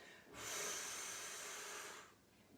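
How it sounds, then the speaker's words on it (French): A single deep inhalation during a Pilates breathing exercise, a soft, airy intake lasting under two seconds, heard close and quiet with no talking. "Et la dernière fois, prends l'inspiration."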